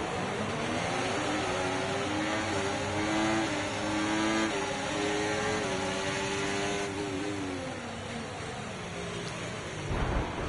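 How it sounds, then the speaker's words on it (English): A Formula 1 race car in F1 24 builds revs at the start and accelerates away, a loud, steady engine whine rising and falling in pitch with gear changes, alone with no talk. "Right, feed in the throttle, let's build the revs."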